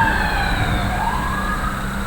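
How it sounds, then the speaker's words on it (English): Wailing emergency sirens with drifting, sweeping tones over steady traffic rumble, sounding continuous and moderately distant as they pass. "as I hear the sirens go by"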